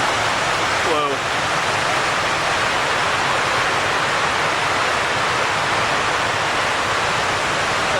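Water pours over the dam overflow at Swatara Iron Furnace, a loud, continuous broadband roar like a waterfall that stays steady throughout, with one brief voice near the start.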